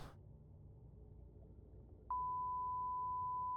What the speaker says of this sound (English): There's your beep. Enjoy your beep.